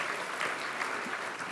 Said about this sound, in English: he deserves some applause for that right there now